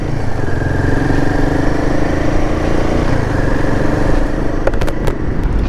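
A Royal Enfield Himalayan 452 motorcycle runs in eco mode, its engine giving a steady, loud, close droning hum with a faint tonal whine, and a few sharp clicks near the end.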